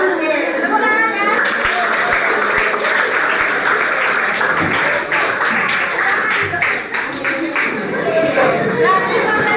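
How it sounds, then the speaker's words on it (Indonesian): A class of students claps hands together in a classroom, a dense, steady patter of many hands sustained for several seconds, with some voices and shuffling mixed in. "Tepuk tangan ya."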